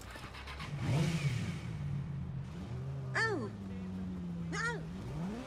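A motorcycle in Watch Dogs revs up, throttle blips rising and falling twice over a low idling engine, with someone talking faintly over it.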